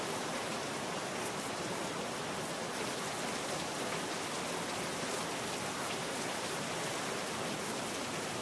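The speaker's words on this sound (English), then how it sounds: "I think the rain sounds like water hitting the rooftop of a house." Steady, dense rain in a video game pours without a break, a full hiss of drops drumming on a surface with no voices.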